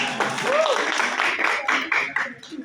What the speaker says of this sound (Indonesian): Tepuk tangan dong untuk Naila.